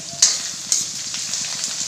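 Steady sizzling of garlic frying in a pan, with a couple of sharper spits and faint stirring scrapes, close by and without voices.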